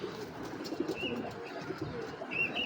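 Giribaz high-flyer pigeons make soft, low cooing that continues through the whole stretch, with a few faint chirps above it and no voices.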